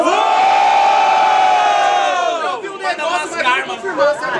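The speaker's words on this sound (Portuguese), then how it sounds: "Só barulhos, barulhos pra quem gostou das rimas do rap!" A crowd at a student rap battle semifinal roars, cheers and shouts loudly, a sustained wall of voices that breaks into scattered whoops and yells.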